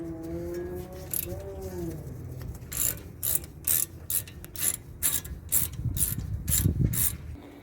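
A hand ratchet tightens brake caliper bolts on a 2011 Toyota Camry LE, giving rapid bursts of close, crisp clicking. A brief low tonal hum comes first, before the clicking begins.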